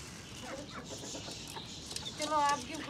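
Hens in a Punjab village yard cluck softly while being fed grain, with a louder burst of clucking near the end and a voice speaking faintly alongside.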